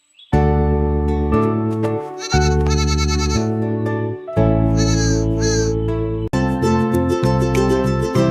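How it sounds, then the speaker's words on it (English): A goat bleats loudly and close by in four long, wavering calls, each cut off sharply before the next begins, with no talking. "G for goat."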